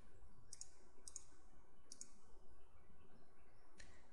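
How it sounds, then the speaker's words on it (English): Computer mouse button clicks, three quick double clicks spaced about half a second apart followed by a single click near the end, crisp and close against a quiet background hum. "check the desired track segment and click the download button"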